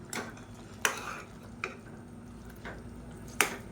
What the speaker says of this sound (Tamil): சேர்த்துட்டு கலந்து விட்டுக்கலாம்.